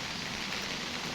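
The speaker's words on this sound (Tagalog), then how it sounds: "Maulan na umaga." Steady rain falling on a wet morning near a highway, an even, continuous hiss of drops close by with no voices.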